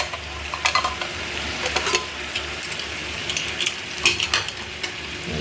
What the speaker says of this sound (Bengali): পেঁয়াজটা ভেজে তারপর আদা রসুন লঙ্কা টমেটো সমস্ত একসাথে বেটে এর মধ্যে দিয়ে দিয়েছিলাম, খুব ভালো করে এটা কষাবো